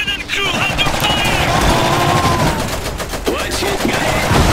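Battle gunfire in the Iron Harvest video game, continuous rattling machine-gun and rifle fire with booming impacts, loud and dense, with shouted voices mixed in.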